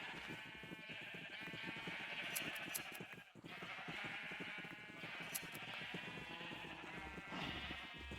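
Sheep in Minecraft bleat again and again in a steady, busy chorus, with overlapping cries that stay loud through the whole stretch and only briefly dip near the middle.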